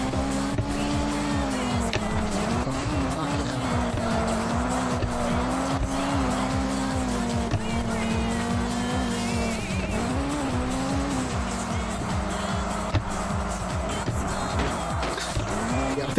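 A race car in a Sega Saturn racing game drives with a steady, droning engine whose pitch rises and falls, while tires squeal and skid almost continuously throughout.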